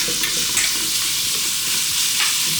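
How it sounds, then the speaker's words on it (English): Lamb mince frying in a pan, with a steady bright sizzle and the scrape of stirring that comes and goes on top, close and loud, with no talking. "So just cooking this lamb mince."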